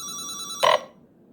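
A telephone rings on a long-distance call: a steady electronic ringing tone, then a brief louder burst, after which it cuts off to near silence.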